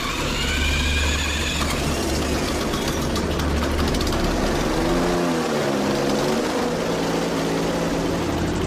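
A small propeller engine runs loud and close, a steady droning roar with a pitch that wavers and dips partway through.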